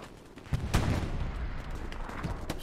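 Gunfire in the Hell Let Loose game, a couple of sharp cracks among a dense, loud rumble of battle noise, with no talk over it.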